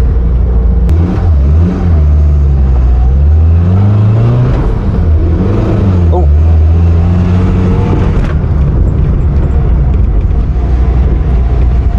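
A 1971 Hillman Imp Super engine loud and close, revving up and down in repeated swells over a steady rumbling idle.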